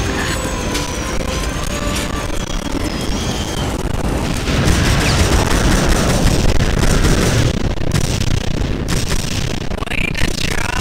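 Loud, dense rumbling blasts and explosions from the TimeSplitters Future Perfect mission aboard the 1969 Khallos Express train, continuous heavy noise that grows stronger midway, with a few high whistling tones early on.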